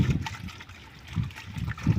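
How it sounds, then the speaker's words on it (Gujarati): Water mixed with a biofertilizer bacteria culture sloshing and churning in bursts, stirred hard in a container, with splashy surges rising and falling close by. "આ પાણીને આમ એકદમ હલાવી નાખવાનું છે"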